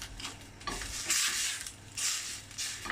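A block of frozen homemade stock drops into a hot soup pot, giving uneven bursts of hissing and sizzling with a few clanks as it melts, fairly quiet and without talk.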